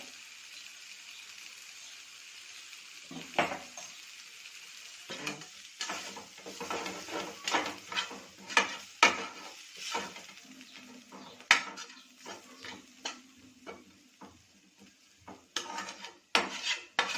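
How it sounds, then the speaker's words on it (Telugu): Masala pav mixture cooks on a low flame as a metal spoon repeatedly clinks and scrapes against the pan in irregular, sharp strokes over a faint quiet sizzle, close by with no speech. "ఇదంతా లో ఫ్లేమ్లోనే మనం ఫ్రై చేసుకోవాలండి"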